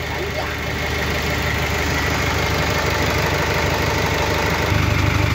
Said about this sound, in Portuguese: O motorzinho tá funcionando.